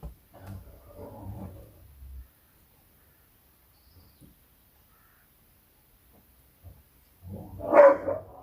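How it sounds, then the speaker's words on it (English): Dogs fighting with each other give two short, muffled bursts of barking and snarling at the start and end, separated by a long near-silent gap. "I'm so sorry if you can hear the dogs. They just fight with each other for some reason."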